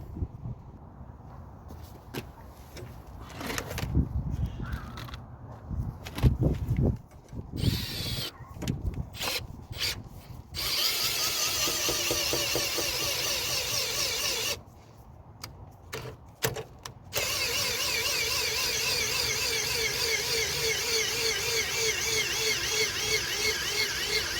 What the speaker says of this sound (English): Again, we get my drill, speed things up.